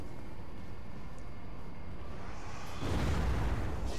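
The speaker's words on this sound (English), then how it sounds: "I'm using my explosion." A spell-like explosion ability fires in Elder Scrolls Online combat, a loud rumbling blast surging in near the end over a steady background of game noise.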